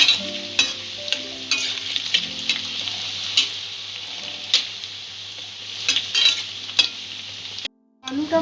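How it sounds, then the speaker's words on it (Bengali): Potatoes frying in a pan, a steady sizzle broken by sharp scraping stirs and clinks of a spatula against the metal, close and busy, with a brief dropout near the end. "আলুটা ভাজা হয়ে গেছে"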